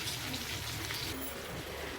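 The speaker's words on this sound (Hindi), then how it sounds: "अब हम इसमें डालने लगे हैं 1 कप जितना पानी" A cup of water is poured into a pot of chana dal, making a steady, close splashing and gushing rush that lasts the whole two seconds without a break. No voices are heard.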